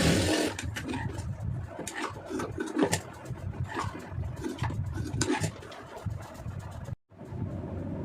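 A sewing machine stitches fabric for a blouse in a busy, rattling run that cuts out abruptly near the end, then briefly resumes.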